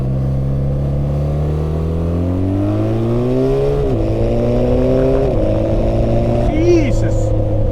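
A BMW R 12 G/S motorcycle accelerates hard through several gears using its quick shifter, the loud close engine note climbing then dropping at each rapid upshift, with a brief voice near the end.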